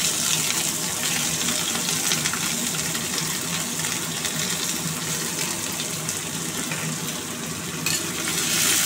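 Chopped onions with cardamom, cinnamon and cloves fry in hot oil, a loud, dense, continuous sizzle holding steady throughout, close by, with no talking.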